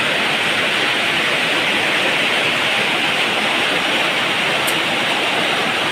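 Steady, dense rain drums on a house roof as a continuous loud hiss with no breaks, alone without any voices.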